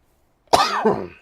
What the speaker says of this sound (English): I kept coughing.